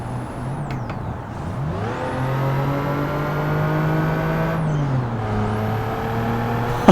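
Turbocharged car engine in a manual-transmission driving video game revs through gears, pitch climbing then dropping at each shift with a whirring turbo whine, loud and continuous with no talk.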